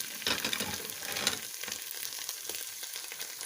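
Tomato paste and spices sizzle and fry in a pan, a steady crackling hiss with a brief burst of stirring near the start, close and fairly quiet.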